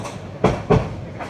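Aboard the moving Mahanagar Provati train between Dhaka and Chattogram, the carriage rumbles steadily, with two sharp rhythmic clacks of wheels over rail joints standing out close by.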